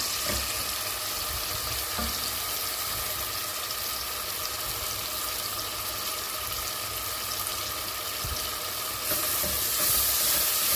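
Oil sizzles steadily as ingredients for a Turkish meat and dried bean stew are sautéed in a pot, a dense, continuous frying hiss with occasional stirring, growing slightly louder near the end.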